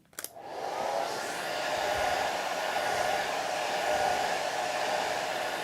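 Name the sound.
hair dryer blow-drying a watercolor painting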